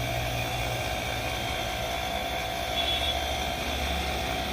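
An electric rickshaw (toto) motor runs up to speed with a loud, steady whirring hum and broad noise throughout the short stretch.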